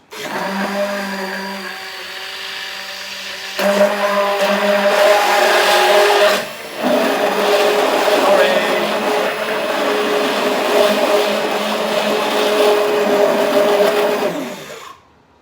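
A blender roars loudly and continuously mixing Yorkshire pudding batter, briefly dropping and surging again, then cuts off after about fifteen seconds; no one speaks.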